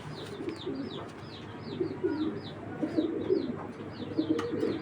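A chocolate grizzle hen racing pigeon coos in a loft, a series of soft, repeated rolling coos over a low background murmur, fairly close and steady.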